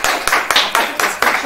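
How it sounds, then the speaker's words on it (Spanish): Audience clapping for a guest on a television special, a handful of loud, close, evenly spaced claps in a brief burst, heard alone. "Un fuerte aplauso para ella,"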